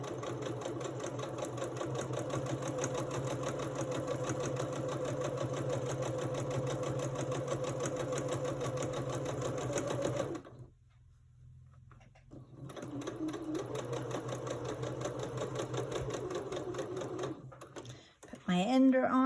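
A sewing machine stitches quilt pieces with a steady, close mechanical whir. It stops for about two seconds, then runs again before a final pause and a short clatter.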